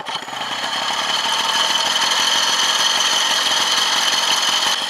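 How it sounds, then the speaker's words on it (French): A Mobylette moped's small two-stroke engine fires up and settles into a fast, buzzy, rattling run, with a couple of throttle blips swelling it louder, heard close and alone. "une fois qu'on sent que le moteur commence à prendre des tours, on vient du coup lâcher et donner 2-3 coups d'accélérateur"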